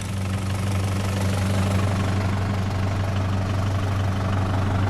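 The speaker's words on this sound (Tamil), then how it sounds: "வண்டி கிளம்பிருச்சு, இழுத்து விட்டாச்சு." A Mahindra 475 tractor engine idles in a field with a steady, low, throbbing diesel rumble and a slight knock, continuous and close throughout.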